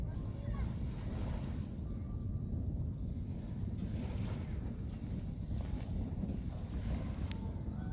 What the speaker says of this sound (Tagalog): bagong bangka natin, naka double engine yan